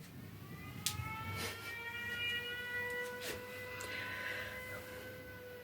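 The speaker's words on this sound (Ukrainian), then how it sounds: "Увага! Повітряна тривога. Пройдіть найближче укриття." Air raid siren in Ukraine, a faint distant rising and falling wail with steady tonal bands holding throughout, set against low background rumble and a couple of brief knocks.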